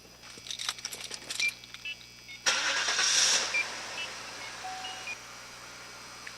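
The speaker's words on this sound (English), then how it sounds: "the vehicle can be started and the steering wheel turned from lock to lock." A vehicle engine cranks in short bursts, then catches and settles into a steady idle with a few faint beeps, heard nearby with no talk over it.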